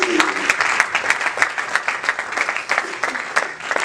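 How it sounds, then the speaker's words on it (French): A church congregation claps steadily at a Sunday service, dense overlapping applause holding at an even level throughout, with a faint murmur of voices beneath. "Can we clap?"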